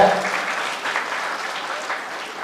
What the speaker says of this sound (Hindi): भाई के लिए विशेष ताली।